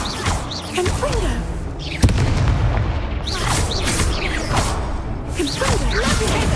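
Spell blasts and explosions from the Hogwarts video game, booming whooshes layered under a game voice, with one sharp crack partway through and busy effects throughout.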